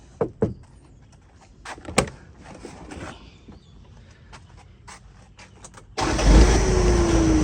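A four-wheel pickup truck engine starts after several door clunks and faint handling noises, catching quickly into a loud, steady idle close by.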